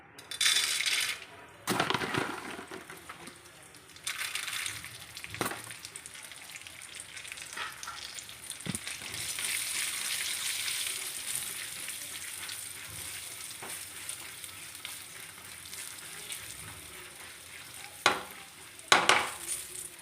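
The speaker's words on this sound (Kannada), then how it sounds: "ತುಪ್ಪ ಬಿಸಿಯಾದ ನಂತರ ಅದಕ್ಕೆ ಸ್ವಲ್ಪ ಗೋಡಂಬಿ ಹುಡಿ ಮಾಡಿದ ಗೋಡಂಬಿಯನ್ನು ಹಾಕಬೇಕು" Crushed cashews fry in hot ghee in a pan for a banana halwa, giving a steady close sizzle with a few sharper clinks and scrapes of stirring.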